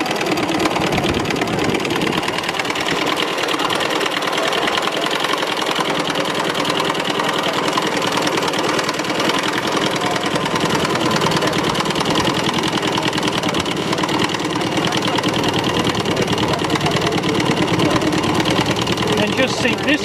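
An antique sewing machine built in 1880, sewing steadily at a fair, with a continuous rapid mechanical whir and clatter throughout, close and loud amid background crowd noise.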